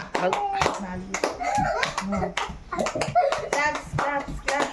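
Children clap their hands in quick bursts while playing a handkerchief party game in a room, mixed with close, lively chatter and shouting from several kids.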